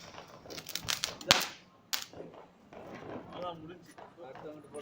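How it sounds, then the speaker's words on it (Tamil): Several sharp cracks and pops of firecrackers go off in quick succession, one especially loud bang standing out, followed by quieter crackling and voices talking in the background. "சாச்சு வச்சா கூட நல்லா வெடிக்குது."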